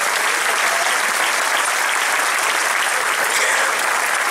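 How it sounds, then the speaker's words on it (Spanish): A live audience gives a strong, sustained round of applause for performer Antoñito Betancor at an evening folk music show, dense and steady clapping from start to finish with no pause. "Vamos a dar un fuerte aplauso a Antoñito Betancor, que se lo merece,"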